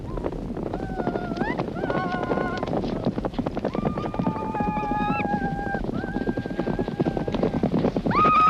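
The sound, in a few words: horses galloping in a Mongolian horse race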